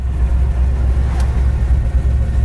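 A 1965 Chevy Chevelle convertible's engine rumbles loud and close, its exhaust burbling steadily at idle with a slight rev in the middle.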